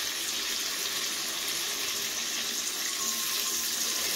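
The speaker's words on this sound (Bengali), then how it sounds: "এটা দিয়ে আমি একটু জল দিয়ে ভালো করে মশলাটাকে কষাবো।" Water runs steadily into a pan of chili and cumin powder spices being cooked, a faint continuous hiss and trickle without a break, with no talking.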